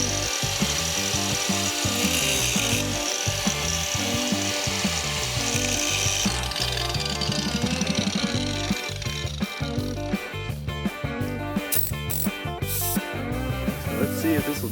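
An air chisel hammers in rapid bursts against steel front suspension parts on a Ford Pinto, a loud, continuous rattling chatter with brief pauses, close by and with no talk.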